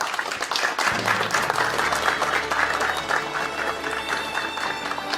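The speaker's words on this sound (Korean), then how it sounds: "큰 박수로 맞이해 주시면 감사하겠습니다" Enthusiastic applause from an audience at a Korean political party's economic advisory group launch event fills the room, dense clapping that holds steady throughout at a fairly loud level.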